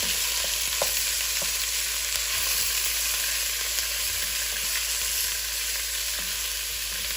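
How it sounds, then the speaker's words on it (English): Boneless leg of lamb, about 1.75 pounds, searing in a soup pot with aromatics, giving a steady, close, loud sizzle with a few small pops and crackles throughout. "So we'll get that searing and try to get some nice brown color on the edges"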